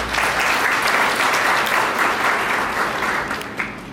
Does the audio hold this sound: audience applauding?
yes